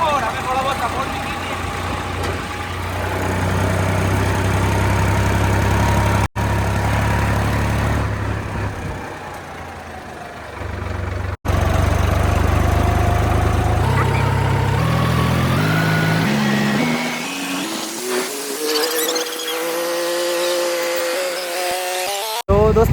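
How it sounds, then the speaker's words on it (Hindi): Engine drone of a motorbike ridden on the road, a steady low rumble with rising and falling pitch as it changes speed, loud and close, with people talking over it. "हम अभी बाइक से जा रहे हैं"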